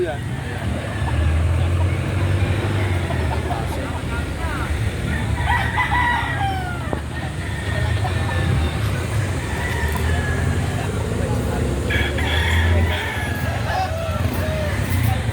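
A Kanawayon Cuban gamecock crows amid the busy din of a rooster market, its calls cutting through constant crowd babble and other birds, with distant traffic rumbling underneath.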